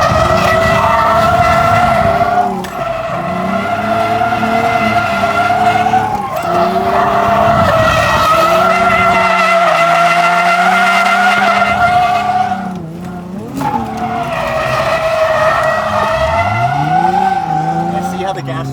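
An Infiniti G35 in worn, rough condition skids around a race track, its tyres squealing loudly and continuously through long slides with the engine droning beneath, while people talk over it.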